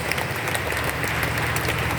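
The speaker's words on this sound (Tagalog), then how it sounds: "Palakpakan po natin ang Panginoon." Church audience at an El Shaddai healing service applauding for the Lord, a steady dense wash of clapping that fills the whole stretch at even loudness, with faint voices mixed in.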